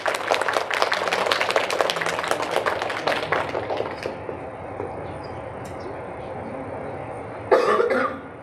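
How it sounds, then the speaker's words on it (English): An audience at an LGBTQIA+ youth health and safety panel claps for the panelists: dense, fairly loud clapping that thins and fades over about four seconds, then a short burst of clapping near the end. "please give a round of applause to our wonderful panelists tonight"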